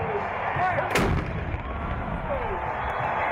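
An antique 75mm howitzer cannon named Comatose fires a single loud, booming blast at a Colorado State University football game, and crowd noise and a broad outdoor rumble trail off behind it.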